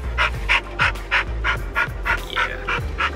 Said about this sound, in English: He's full bred pit bull.